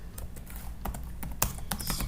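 Steady typing on a computer keyboard while entering a taxpayer's name into an online income tax form, a run of close, distinct key clicks at an uneven pace.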